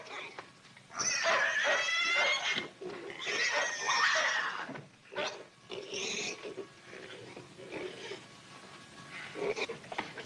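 A pig squeals and shrieks in loud, harsh bursts while a dog growls and snarls at it nearby, the commotion rising and falling across the scene from a 1941 film, with faint voices mixed in.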